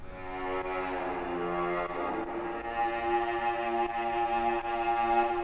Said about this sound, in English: I've got this cello that sounds like this.